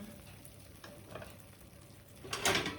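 Pancake batter cooking under a lid in a frying pan, giving a soft, steady sizzle that runs throughout, with a brighter burst of crackling near the end.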